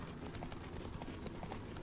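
Horse hooves gallop steadily in The Witcher 3 video game, a dense, continuous clip-clop of rapid beats close up and moderately loud, with no talking.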